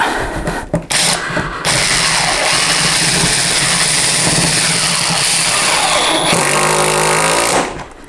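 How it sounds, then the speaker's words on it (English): A Parkside PDSSAP 20 B2 cordless impact driver drives 6mm hex-head screws into wood, giving a loud, continuous whirring hammer rattle for about seven seconds after a couple of brief starts, then stopping abruptly. "we are driving these fairly easily into the wood"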